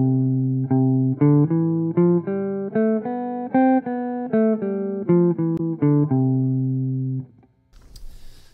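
A melodic instrumental line in swing eighths, each beat split into a long note followed by a short one, with steady separate notes in a lilting rhythm for about seven seconds before stopping.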